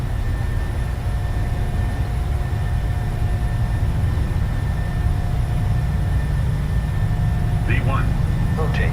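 Jet engines of a PMDG 737-700 roar steadily through a takeoff roll in Microsoft Flight Simulator, a loud continuous low rumble with high whine, while a voice talks briefly near the end.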